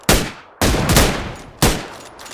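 Three loud, sharp sniper rifle shots, an M24, fired in the battle royale game PUBG Lite, each a hard crack with a ringing tail, spaced about half a second and a second apart, no voices.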